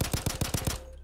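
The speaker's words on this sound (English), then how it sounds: "Nice rapid fire teamwork." Rapid gunfire from the video game Payday 2 sounds as a loud, close burst of about six evenly spaced shots that ends in a brief fading tail, with no voices over it.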